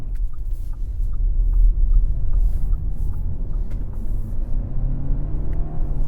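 A 2017 Audi A4 Ultra drives on the road with a loud, low engine rumble and road noise from inside the cabin, the engine note rising and shifting as it downshifts, with no talk.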